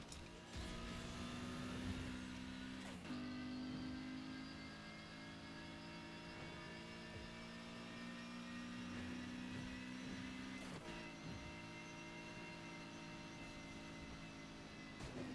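Car engine in the Need for Speed Heat racing game with a jet-like, airplane-style whine, loud and sustained with steady rising and falling tones over about fifteen seconds, with no talking.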